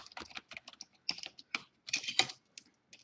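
Tags typed on a computer keyboard, heard as quick irregular bursts of crisp key clicks, close and moderately loud, with short pauses between words.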